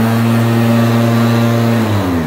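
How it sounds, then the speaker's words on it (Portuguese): A Toyota SW4 starter motor being tested on its own, wired straight to a battery, gives a loud, steady, close-up electric whine with a humming drone that holds evenly and then drops slightly in pitch as it winds down. "E aqui, o motor de partida no teste."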